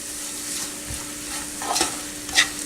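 Crushed red chili and other ingredients sizzle in a frittata pan, a steady moderate frying hiss broken by two brief stirring scrapes near the end, with no talking.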